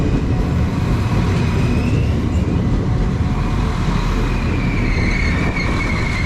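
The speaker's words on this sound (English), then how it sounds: "Arriving in now is the 15:15 Irish Rail service to Rosslare Europort" An Irish Rail service to Rosslare Europort pulls into a station, a loud continuous rumble and roar of the train with a faint high squeal of wheels, steady and close throughout.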